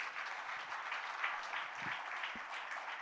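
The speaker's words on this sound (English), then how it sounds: "A little louder applause would be nice." Audience applause at an education conference in a hotel ballroom, a sustained even wash of clapping from a moderate distance, with no voices over it.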